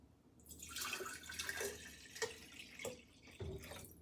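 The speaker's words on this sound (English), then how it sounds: "we are going to fill these jars halfway in order to get them in the canner" Water splashing and trickling into canning jars filled halfway for a canner, soft gurgles and pouring rising and falling in several bursts, faint and close with no speech.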